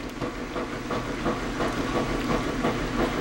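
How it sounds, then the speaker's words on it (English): A household washing machine runs in the background of a kitchen, a steady broadband churning hum with faint rhythmic clicking, continuous and moderately loud, with no voices. "I've got the washer on, so I hope you can hear me okay"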